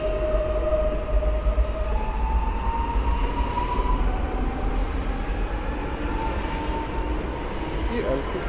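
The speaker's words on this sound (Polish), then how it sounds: "Pociąg jedzie do przystanku Warszawa Rembertów." An S2 commuter train, a Flirt unit, passes Warszawa Powiśle station on an autumn day, running loud and steady throughout with a sustained rumble and rising and falling tonal whines of traction motors.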